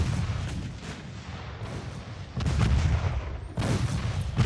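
Battleship main guns boom in a naval combat game, several heavy rumbling salvos in sequence, two sharp loud blasts standing out late, with no talk over them.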